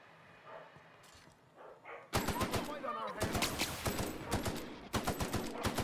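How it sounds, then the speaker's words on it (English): Rapid machine gun bursts in The Outer Worlds game start suddenly after a quiet stretch, a loud dense chatter of shots that keeps going with short pauses between volleys. "I'm gonna switch over to my machine gun here for a little bit"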